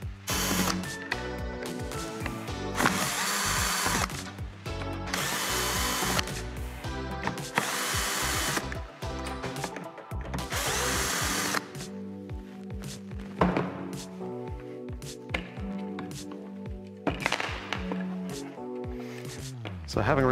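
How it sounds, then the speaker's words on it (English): Bursts of a cordless drill driver whirring in short runs as it removes screws from a commercial water treatment valve, with clicks and clunks of parts between, close and fairly busy. "I'm gonna save a little bit of time and use a drill driver."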